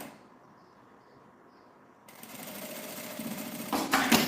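A sewing machine stitches a toiletry case. A quiet pause with faint clicks gives way to a steady, close motor whir that grows louder and rattles toward the end.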